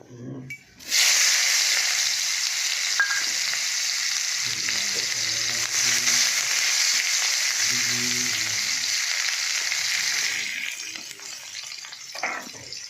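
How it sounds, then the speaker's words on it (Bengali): Lentil fritters frying in oil give a loud, dense, close sizzle that bursts in after a quiet start and holds steady, with faint murmuring voices in the background before it tapers off near the end. "ডালের বড়াটা ভেজে নেবো"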